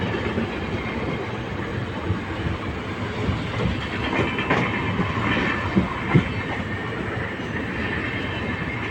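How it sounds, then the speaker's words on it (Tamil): A train on the Erode to Mettur Dam line runs past overhead at speed, a steady broadband rumble and rattle of wheels on rails holding for the whole stretch, with faint clicks and a brief squeal near the end and no voices. "மேலே ட்ரெயின் போகுதுங்க, ட்ரெயின் போகுது."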